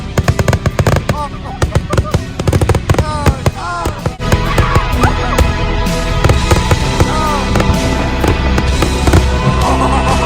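Fourth of July fireworks and firecrackers burst close by in rapid, crackling volleys, loud and continuous, while excited people shout and talk over the explosions.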